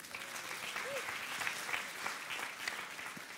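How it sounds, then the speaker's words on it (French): Church audience applauding after a volunteer hands over money, steady crowd clapping throughout at moderate distance, with a few voices underneath. "On peut l'applaudir."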